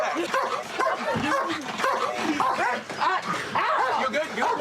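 A police dog barks and yips repeatedly and loudly during a tense arrest, its excited vocalizations mixed with overlapping shouting voices throughout.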